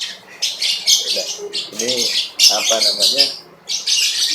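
A pet bird gives loud, repeated squawks and sharp chirps in bursts close to the microphone, while someone speaks briefly alongside.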